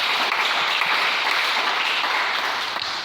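A church congregation applauds the Lord with steady, loud clapping from many hands that fills the room without a break for a few seconds.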